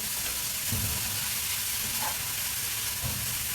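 Grated carrot for gajar halwa being sautéed in a pan, a soft, even sizzle and hiss with a few low muffled stirring scrapes, moderately quiet and with no speech.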